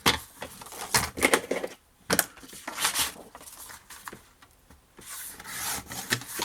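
Scrapbooking paper is cut by hand in bursts of rasping, scratchy strokes close up, with short quiet pauses between the cuts.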